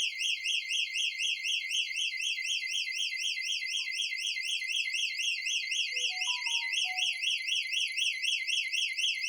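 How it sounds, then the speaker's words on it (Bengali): A home alarm system siren blares continuously in a rapid rising-and-falling electronic wail, loud and steady from start to end, with a few faint beeps underneath. "সাইরেন অ্যাক্টিভেটেড, এখানে পরিষ্কার দেখা যাচ্ছে।"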